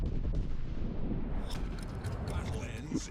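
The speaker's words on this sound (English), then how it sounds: "And then here comes another airstrike from him." Airstrike explosions in the naval video game World of Warships Legends, dense rumbling booms and crackling impacts rolling on continuously over a few seconds, with a voice talking over them.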